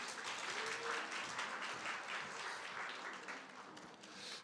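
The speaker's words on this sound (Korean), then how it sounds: "우리 나오실 때 박수." Congregation applause at a church service greets the senior pastor as he comes forward, a dense steady clapping from a crowd that holds for several seconds and tapers slightly at the end.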